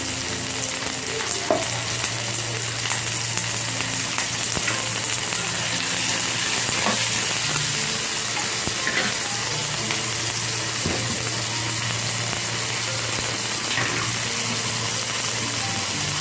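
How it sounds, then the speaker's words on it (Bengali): Fish frying in a pan over a medium gas flame, the dish being curd-marinated fish with salt and chilli powder: a steady, dense sizzle holds for the whole stretch with occasional faint scrapes, close and even, no voices. "এবার একটু ভাজা ভাজা করে নেব"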